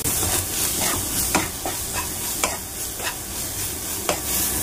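A spatula scrapes and stirs capsicum with salt and turmeric in a frying pan over steady loud sizzling, with regular scraping strokes and no talking.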